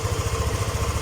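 A Yamaha Aerox scooter engine idles close by, a steady low pulsing throb held evenly through the short stretch with no one talking.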